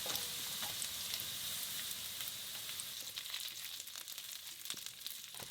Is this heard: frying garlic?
yes